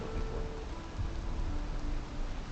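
Steady rain in the Valheim video game falls as an even, close wash of hiss with a soft low rumble underneath, continuous throughout with no voices.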